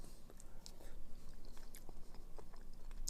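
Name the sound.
chewing crunchy Korean dagashi snack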